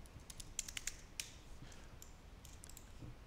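Faint, quick keystrokes on a computer keyboard come in an uneven burst of light taps, then a few scattered clicks, with no voices.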